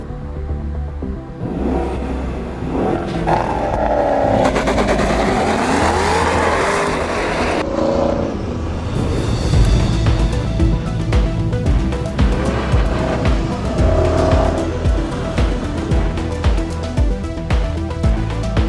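A 2024 Maserati Ghibli Trofeo engine revs hard on the road and climbs through gears, with tires squealing in long wailing stretches, loud and close throughout.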